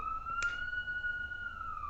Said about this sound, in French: Désolée pour le bruit des ambulances